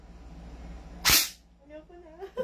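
A single sharp snap from an M4A1 SRC airsoft rifle fired outdoors, one quick burst of noise followed by people talking nearby.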